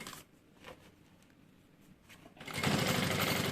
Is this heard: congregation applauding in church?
no